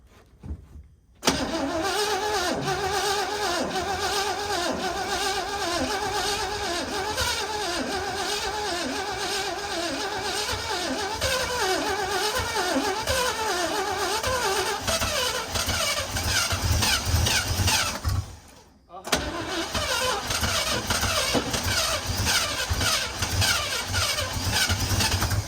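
The engine of a 1969 Chevrolet C50 truck cranks repeatedly in a loud, rapid rhythm. It pauses briefly partway through, then resumes cranking, close up and without speech.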